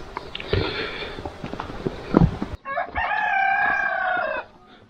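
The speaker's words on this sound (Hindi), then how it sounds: "मुर्गा लगा रहा है आवाज़ें," A rooster crows once nearby at Arang Kel village in the Neelum Valley, a long strained call, after some scattered clucks and rustling.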